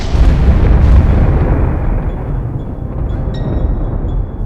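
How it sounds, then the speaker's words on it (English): A ferocious antimatter annihilation blast, a loud, deep boom at the start that rolls and decays into a long rumbling tail, heard alone. "Whenever it comes into contact with normal matter, the two annihilate each other in a ferocious blast of energy."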